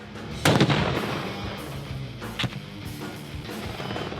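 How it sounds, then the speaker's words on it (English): Military grenade or rocket launcher blasts during an Army Rangers exercise: a sharp, loud explosion followed by a rumbling decay, then a second smaller bang, with scattered distant pops in the open air. "Blow up an enemy position with a grenade or a rocket launcher"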